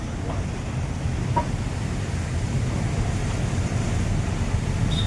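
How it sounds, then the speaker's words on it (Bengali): A large volume of water released from the Durgapur Barrage rushes past in a continuous, even roar, mixed with wind buffeting the microphone. "দুর্গাপুর ব্যারেজ থেকে প্রচুর জোর জল ছেড়েছে দেখছো প্রচুর জল"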